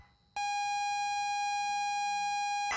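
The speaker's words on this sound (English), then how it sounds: "My parents had that alarm clock." An old alarm clock in the video game Stories Untold starts abruptly and rings one continuous steady electronic beep tone, loud and close, holding for over two seconds before cutting off.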